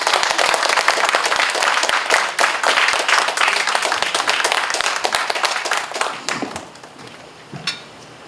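Audience applause at the close of a lecture on basic income, a dense wash of many hands clapping at steady loudness that thins and fades out over the last couple of seconds.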